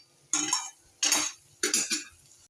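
Shrimp being stirred in a frying pan: three distinct bursts of metal spatula scraping and clinking against the pan, separated by short pauses, close and fairly crisp.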